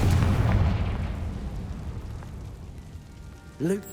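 A Confringo fire spell detonates in Hogwarts Legacy, one loud booming blast at the start that rumbles and fades away, followed by a brief voice near the end.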